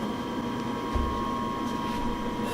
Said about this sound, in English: That's the 10 horsepower rotary phase converter I've got over on the mezzanine.